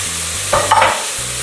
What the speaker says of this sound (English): I'll start adding my curry paste to it.